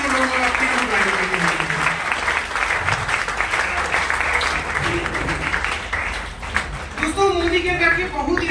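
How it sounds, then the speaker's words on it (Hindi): Audience applause at an event honouring three people, sustained broadband clapping over several seconds that fades as a speaker's voice returns near the end. "एक बार जोरदार जबरदस्त तालियां तीनों लोगों का"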